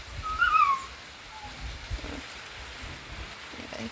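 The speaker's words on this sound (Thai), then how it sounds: "ฝนเลยตกยันไปนี่แหละ" Steady rain falls outdoors in a quiet rural spot, a soft continuous wash of drops at an even level, with a brief faint call near the start.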